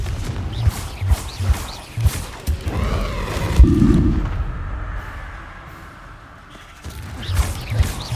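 A Confringo blasting curse goes off in Hogwarts Legacy as a loud, deep explosive boom amid game combat thuds, followed by a fading rumble and then more impacts.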